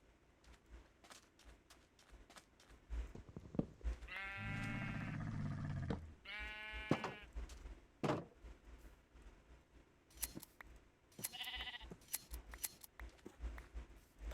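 Sheep bleat in modded Minecraft, a video game, with two long drawn-out bleats close together and a shorter one later, among snipping and clicking game sounds.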